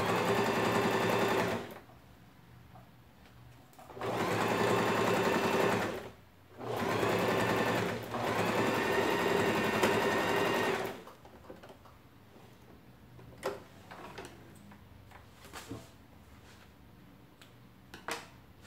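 A sewing machine stitches the fabric lining of a zippered toiletry pouch. It runs close by in three loud, steady bursts of rapid mechanical whirring, and after them come quieter handling clicks and the rustle of cloth.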